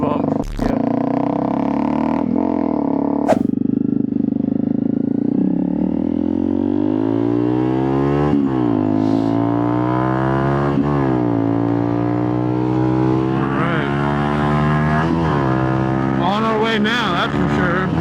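A Honda CRF250L dual-sport motorcycle ridden around a parking lot, its engine droning close and loud with rising and falling revs as it speeds up and slows, while a rider talks over it.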